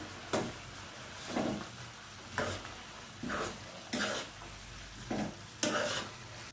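Chicken manchurian coated in cornflour batter is stir-fried over full high heat, with regular scraping strokes of a spatula in the pan about once a second over a continuous sizzle.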